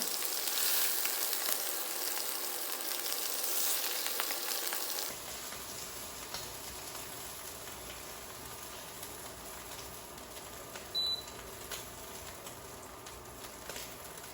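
Miso shrimp sear in a hot pan with a steady, crackling sizzle, close and moderately loud, easing to a quieter sizzle partway through with a brief clink near the end.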